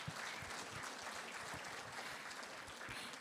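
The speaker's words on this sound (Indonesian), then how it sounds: "Ya silakan tepuk tangan." An audience claps together in steady, dense applause that holds at an even level for the whole stretch, heard from a slight distance with no voices over it.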